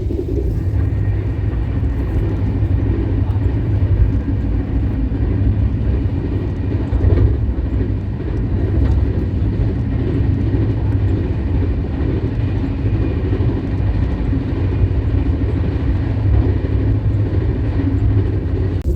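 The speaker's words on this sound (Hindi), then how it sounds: "अभी हम लोग स्किप करने वाले हैं मेजा रोड रेलवे स्टेशन को, फ्लैट 130 के स्पीड से।" An SF Express in India, seated in a 3AC coach, rushes past Meja Road railway station at about 130 km/h, giving a loud, steady rolling rumble with a rhythmic rattle of wheels and carriages and no speech.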